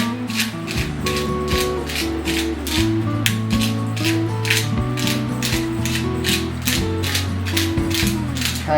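A pepper mill cracks black pepper over chicken thighs with quick, rhythmic ratcheting clicks, loud and close, repeating steadily throughout beside a droning hum.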